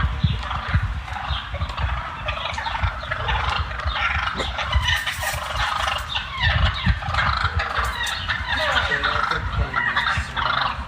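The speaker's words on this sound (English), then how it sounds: "It's a bunch of wild turkeys." A flock of wild turkeys gobbles loudly and continuously, with overlapping calls, scuffling and clatter throughout, all close by and with no talking.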